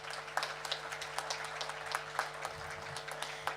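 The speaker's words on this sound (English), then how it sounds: "So just a round of applause to the Rotary Club as well." An audience applauds for the Rotary Club at a Loxton Mardi Gras presentation evening, with steady, moderately loud clapping from a crowd that runs through the whole moment.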